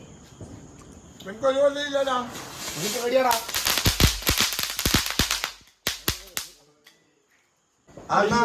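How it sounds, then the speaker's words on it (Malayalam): Firecrackers pop in a rapid string of sharp, loud cracks at a family Vishu celebration, with people talking and calling out before and between the bursts. "പടക്കം പൊട്ടിക്കാൻ പേടിച്ചിട്ടാണ്"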